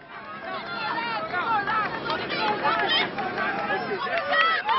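A dense crowd presses around a politician on the Champs-Élysées, a continuous babble of many close voices calling and chattering at a steady, lively level.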